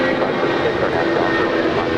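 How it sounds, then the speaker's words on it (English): Dornier 328 regional jet landing at LAX, a continuous steady engine roar at moderate distance, brief and unbroken. "This is a 21-year-old Dornier 328 jet coming in from Bozeman"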